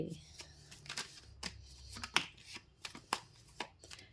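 Tarot cards are shuffled in quick, crisp riffling bursts, a series of soft slaps and flutters recurring irregularly while someone speaks over them.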